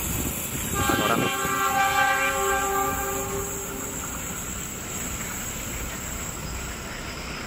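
The Fajar Utama passenger train, running from Pasar Senen to Yogyakarta with executive and panoramic cars, sounds a loud horn early on. A steady rolling rumble of its passage follows.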